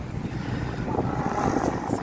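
A small motor boat pulls away from a pier and heads out to sea, its steady engine rumble blending with constant wind buffeting the microphone throughout.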